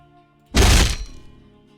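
A door is bashed in and blasted off its hinges in a single loud, crunching thud with a brief splintering burst, followed by a quick fading tail, heard alone.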